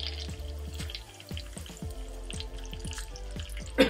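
Curry leaves sizzle and crackle in hot oil for a Palakkad-style potato carrot molagootal, with steady frying hiss and repeated sharp pops close by, no talking.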